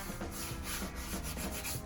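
Egg beater hand drill boring a hole for a guitar control cavity cover, a continuous close scratchy grinding with rhythmic pulses from the turning crank, alone without talk.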